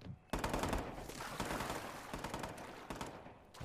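Rapid bursts of gunfire in Watch Dogs 2 are aimed at a helicopter's driver. The shots come as dense, loud automatic volleys that fill almost the whole clip after a short quiet start.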